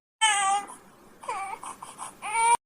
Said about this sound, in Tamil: குழந்தை எவ்வளவு நேரம் அழுதுட்டு இருக்கு?